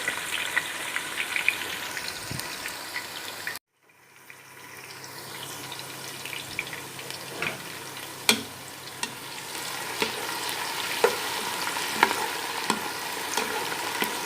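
Onions frying in hot ghee, a steady close sizzle with scraping stirs that cuts off briefly, then returns and builds back to a full crackle with occasional sharp pops.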